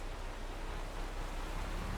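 Rain falls in Farming Simulator 22 as a soft, even hiss that stays at a constant low level, with no voices.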